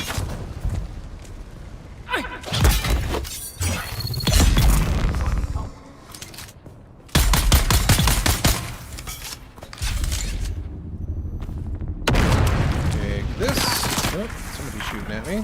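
Gunfire in the Dune Awakening video game: loud bursts of rapid automatic shots and heavy booming blasts, close and chaotic, coming in repeated volleys with brief gaps and voices underneath.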